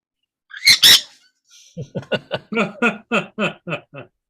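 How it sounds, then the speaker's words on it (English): An angry bird lets out two loud, harsh squawks, then a rapid run of about nine short chattering calls. The calls are close and loud against silence. "Do you want to see an angry bird before you go?"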